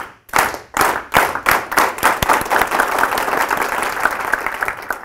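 An audience performs the Aplauso Campesino, the farm workers' applause: a few slow, separate, loud claps in unison that steadily speed up into a fast, continuous burst of clapping.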